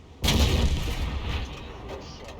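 A tank cannon fires once in a video game featuring the Leopard Prototyp A, a sudden heavy, loud boom that trails off into a long rumbling decay with no talk over it.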